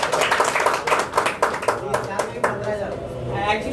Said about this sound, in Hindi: तालियां बजा लेनी चाहिए।